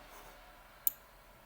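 A single crisp click of a computer mouse sounds once, close and brief, against a quiet background.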